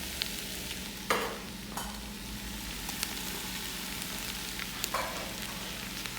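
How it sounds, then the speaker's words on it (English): Onions, garlic and ginger sautéing in a pan for a chicken korma: a steady, close sizzle with occasional scraping stirs, and no talking. "we've been sauteing our beautiful onions for about 15 minutes"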